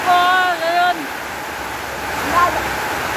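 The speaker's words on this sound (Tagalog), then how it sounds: "Eh okay lang yung ganyang ulan." Heavy rain pours down in a dense, steady hiss during the rainy season, with a voice speaking briefly at the start.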